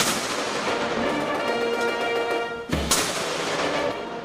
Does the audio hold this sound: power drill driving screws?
no